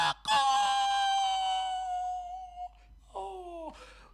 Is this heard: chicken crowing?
yes